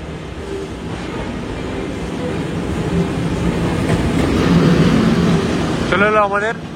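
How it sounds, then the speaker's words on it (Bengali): A Russian long-distance train on the Moscow to Anapa route pulls in with a rumbling, rattling roar that builds steadily, loud and close. A voice is briefly heard near the end. "চলে এলো আমাদের লং ডিস্টেন্স ট্রেন, যেটা পুরো রাশিয়ার নর্থ থেকে সাউথ কভার করে।"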